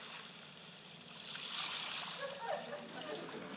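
An ambient beach-waves soundtrack plays faintly, a soft continuous wash of surf swelling and receding, with people talking over it.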